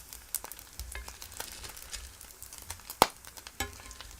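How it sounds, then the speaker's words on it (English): Steak and bacon frying in a pan, a steady close sizzle with scattered sharp pops and crackles of grease splattering, one louder snap near the end. "A lot of grease splatters."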